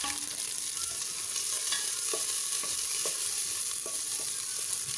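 Finely chopped onion fries lightly in a little oil for a chaomein soup, giving a steady close sizzle with occasional stirring scrapes of a spoon against the pan.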